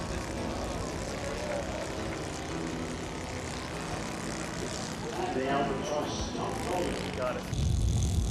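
A scratch-built Albatross model airplane with a 77-inch wingspan, powered by a Saito 120 four-stroke engine, drones steadily and grows somewhat louder toward the end, heard over a continuous outdoor background.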